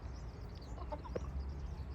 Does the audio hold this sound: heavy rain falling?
no